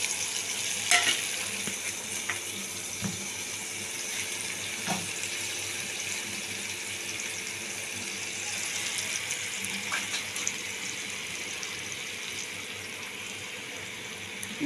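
Water goes into a pan of rohu fish curry cooked with mustard, garlic and green chillies, and the pan answers with a steady, fairly soft sizzle and hiss plus a few small knocks.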